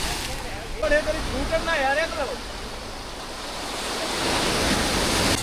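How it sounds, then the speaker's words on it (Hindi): Sea waves wash onto the shore at Dwarka, a steady broad rushing surf that swells louder toward the end, with a voice briefly heard over it at the start. "लो भाई द्वारका में आ गया हूँ समुद्र के किनारे"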